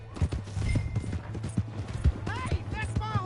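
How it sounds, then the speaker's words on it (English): Horse hooves clip-clopping at a steady trot in Red Dead Redemption 2, close and rhythmic under overlapping shouted dialogue and a brief whinny-like tone. "Hey, that's my horse!"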